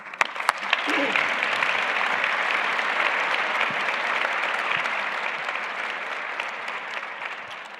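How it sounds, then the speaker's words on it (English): An audience applauds steadily at a public event with the U.S. Treasury Secretary and the Michigan governor, a dense, even wash of clapping that holds for several seconds, with a few brief voices rising above it near the start. "Let's give him a round of applause, please."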